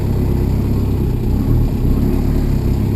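A worn, tired car engine runs close and loud with a rough low rumble that swells slightly, a brief continuous stretch without speech.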